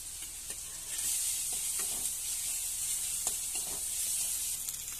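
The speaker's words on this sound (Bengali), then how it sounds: "পেঁয়াজটা এক সাইড করে রসুনটা ভেজে নিচ্ছি" Garlic frying in a pan beside onions while biryani is being made, a steady soft sizzle with faint stirring scrapes and a few light taps, close and continuous.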